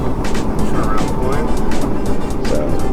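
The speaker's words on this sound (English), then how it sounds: "So this flyby here is about 60 miles an hour." A semi truck on a canyon run passes at about 60 mph with a loud, continuous roar and pulsing road noise, and a voice talks over it throughout.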